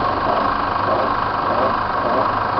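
Chevrolet S10 LT 2.8 diesel engine running hot with a strange noise, a steady rough mechanical drone with a buzzing rattle, close and moderately loud, without clear revving swells.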